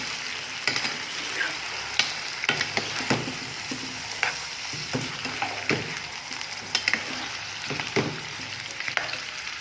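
Potato and onion pieces fry in a pan for aloo palak sabzi, a constant close sizzle broken by repeated sharp scrapes and taps of a spoon stirring, with no talk.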